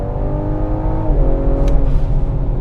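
A 500 hp Ford Explorer ST engine revs hard and loud as it accelerates from a launch-control start, the pitch climbing then dropping at a gear change.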